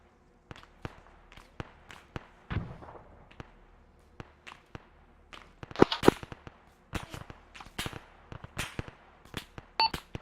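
Gunfire in the military shooter Arma 3, with sharp distant and mid-range rifle cracks and snaps arriving in irregular bursts, some single, some clustered, against a quiet background.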